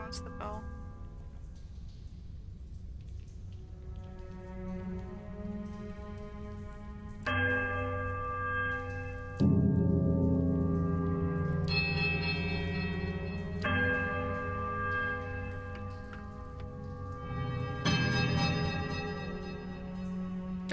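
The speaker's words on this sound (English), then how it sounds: "There is a quiet melodic chime before their discordant voices meet in one powerful rising rush of sound." Temple bells chiming in Pillars of Eternity, a series of sustained melodic bell tones struck one after another, each layering over the last into a rich ringing swell.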